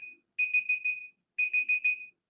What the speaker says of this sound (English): Google timer is done